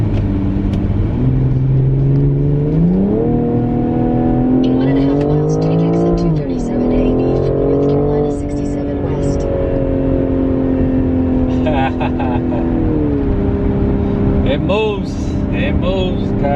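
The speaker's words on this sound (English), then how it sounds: "going to be able to test out how the car picks up speed." A BMW M440i pulls hard on a highway, its engine note rising through the gears in loud sweeping revs with brief dips at the shifts, heard from inside the cabin over steady road rumble.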